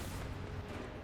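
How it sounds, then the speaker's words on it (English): A tank cannon fires in War Thunder, a British tank at high tier, producing a deep, booming report with a rumbling tail, heard alone at moderate loudness. "I'm just able to get my gun around on time, put a shot into him."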